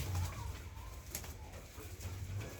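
Pigeons on a small farm coo softly and low, a quiet murmuring from nearby birds with light background rustle.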